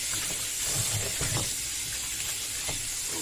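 Ripe plantain washed under running water, a steady hissing rush of water with faint handling knocks, close and continuous.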